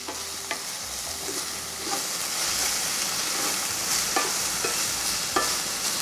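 Serrano pepper and vegetables sautéing in a pan for pork chops, a continuous close sizzle with intermittent scraping clicks as they are stirred around.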